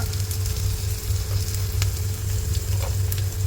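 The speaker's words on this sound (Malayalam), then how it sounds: "ഇഞ്ചി വെളുത്തുള്ളി കറിവേപ്പില ചെറിയ ഉള്ളി വെളുത്തുള്ളി ഇട്ടില്ല ചെറിയ ഉള്ളിയാണ് ഇട്ടത് ആവശ്യത്തിന് മഞ്ഞൾപ്പൊടി ഇട്ട് കൊടുക്കുക" Ginger, curry leaves, shallots and turmeric powder sizzle loudly and continuously in hot oil in a pan, a close, dense frying hiss with occasional light stirring clicks and no speech.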